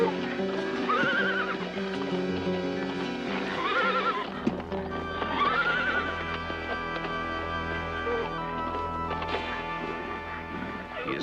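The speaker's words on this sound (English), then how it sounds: "He has a horse brought to him" A horse whinnies repeatedly with loud, rising neighs over a steady clatter of hooves clip-clopping, in a dramatised Aztec conquest scene, the calls close and prominent amid continuous background sound.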